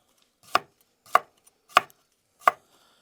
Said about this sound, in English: So a lot of times when you're chopping, you can go.